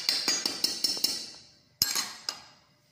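A utensil clinks sharply against a bowl while stirring crinkle cookie dough with vanilla, with a quick run of about six bright taps followed by a pause and two more clinks, close and quiet.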